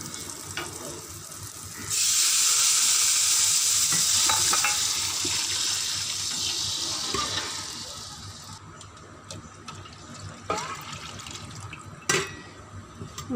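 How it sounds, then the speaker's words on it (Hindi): Water pouring into a pot of seasoned pulao base for rice, a steady rushing splash for several seconds, followed by quieter stirring and clinks. "अब इसमें पानी शामिल करूंगी।"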